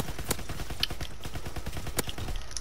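Sharp gunshots ring out from a shooter video game, a few spaced cracks over a busy background of clatter and movement, fairly close and loud.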